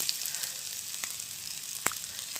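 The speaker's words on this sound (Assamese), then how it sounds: "তেল গৰম হোৱাৰ পিছত পিঁয়াজ দিলোঁ গাজৰ দিলোঁ" Onion and carrot fry in hot oil with a soft, steady sizzle, broken by a few sharp pops and clicks.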